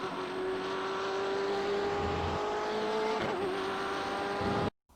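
BMW M8 GTE race car in iRacing lapping Interlagos, a loud steady engine drone holding pitch then dipping briefly as the driver lifts, continuous and close before cutting off abruptly at the end.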